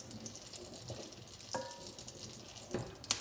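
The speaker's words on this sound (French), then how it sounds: "alors le bœuf commence à être bien doré" Beef and mushrooms browning in butter and olive oil in a pan, a soft steady sizzle with a few faint clinks and stirring scrapes, close and fairly quiet.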